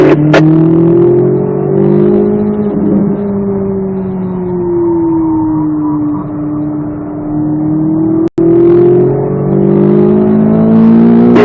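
A Corvette Z06 accelerating on a race track, loud and close, its engine tone rising and falling steadily under throttle for several seconds, with a brief cut partway through.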